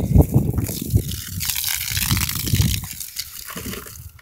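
Cold water from a garden hose sprays against a house in close, uneven bursts of splashing and hissing spray, louder at the start and tapering off near the end.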